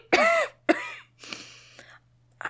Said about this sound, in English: She coughs.